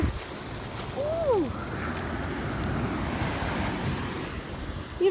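Ocean surf washes onto the sand at Cocoa Beach under constant wind buffeting, with a brief high whine near the start.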